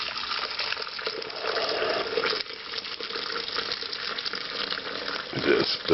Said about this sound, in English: I'm going to begin using the fat separator here.